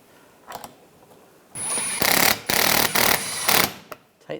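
Power tool driving screws into the front bumper cover of a 2013-2016 Dodge Dart, several short whirring bursts of about half a second each, close and fairly loud, after a couple of faint taps.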